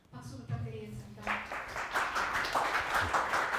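After a brief spoken introduction at a Korean design seminar, the audience breaks into moderate clapping for the incoming guest lecturer, building over the last two seconds.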